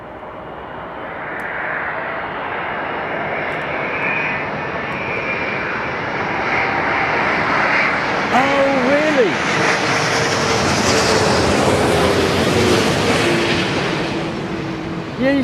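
An Airbus A330 airliner lands with a loud, sustained jet roar that swells as it passes close by, the tires giving brief chirps at touchdown, while people talk beneath the engine noise.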